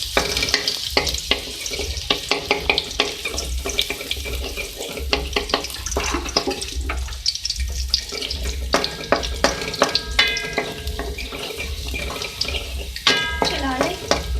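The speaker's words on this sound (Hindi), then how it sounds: "इसमें 1 खाने का चमचा चॉप लहसुन है, इसको मैं हल्का सा फ्राई करूँगी।" Chopped garlic, about a tablespoon, frying lightly in oil in a home kitchen pan, a steady crackling sizzle with intermittent clinks and scrapes running throughout at close range.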